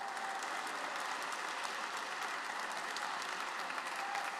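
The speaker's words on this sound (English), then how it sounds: "round of applause for that, right?" Steady audience applause at a State Department talk on the Paris Olympics fills the room, a dense, even wash of many hands clapping at a moderate distance with no break.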